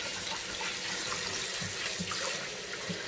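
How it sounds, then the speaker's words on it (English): Tap water runs steadily into a sink while a bowl is rinsed out, a continuous close splashing rush with small clunks of the bowl underneath. "we're going to rinse it out real quick"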